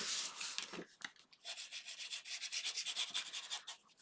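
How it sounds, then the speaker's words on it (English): A bone folder or tool rubs repeatedly along a folded paper album page, giving a series of close, rhythmic scraping strokes with no talking. "continue on in the same manner with fold and burnish"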